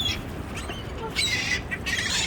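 A flock of seagulls over the Hudson gives scattered squawking calls, some close and some farther off, over a low background rumble.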